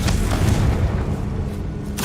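A Confringo spell blast in a Hogwarts video game gives a deep, sustained booming rumble that holds for about two seconds, loud and close, with a faint crackling tail and no voices.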